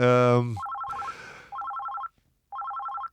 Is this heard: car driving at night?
no